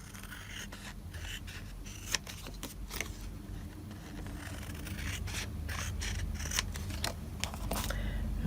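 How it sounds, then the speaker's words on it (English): Scissors trim paper for a handmade journal, a series of crisp, close snips at irregular intervals over a soft, steady room hiss, with no voices. "And now I'm going to trim that."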